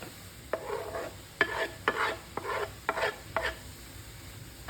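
Sliced kale, mushrooms and onions cook in a frying pan with a low sizzle. About eight distinct scraping strokes of a spatula stir them in an uneven rhythm.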